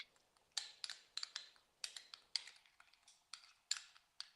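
A utensil taps and scrapes in a small bowl while garlic powder and smoked paprika are stirred together for a fried chik'n wrap. The clicks are quick, light and irregular, close by and quiet, with no voices.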